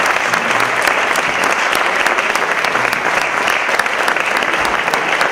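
Warm, continuous audience applause after a lecture, a dense even wash of many hands clapping with no talking.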